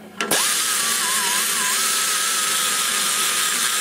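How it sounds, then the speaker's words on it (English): A rotary burr grinds the port of a Denmark ProComp SBC cylinder head, spinning up quickly into a loud, continuous high-pitched whine with slight pitch wavers as the tool works the metal. "I can take the smaller burr and come up on the edges and pull it in."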